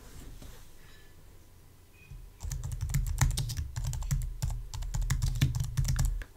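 Computer keyboard typed on up close while a playlist title is entered, with a quiet pause before a burst of rapid, uneven keystrokes that continues steadily to the end.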